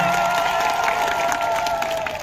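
Applause and ululation from an audience at a Dhanu Jatra stage program in Bindhapali, welcoming an artist on stage. A continuous wash of clapping rises with steady high trilling ululation layered over it, loud and sustained throughout.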